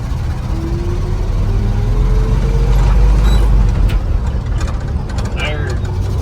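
A sawmill truck's engine pulls through its gears, a loud continuous low rumble that rises in pitch as it accelerates, steady and close throughout.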